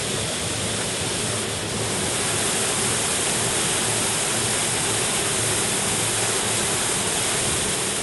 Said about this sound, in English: That is the Murray shooting out of a pipe, which is about 3 foot in diameter